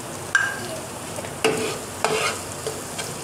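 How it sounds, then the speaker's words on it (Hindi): A spoon stirs semolina milk halwa topped with almonds and dry fruits in a pan, giving several sharp scraping knocks against the metal with a soft sizzle between them and no talk. "इसको अच्छी तरह मिक्स कर लेंगे।"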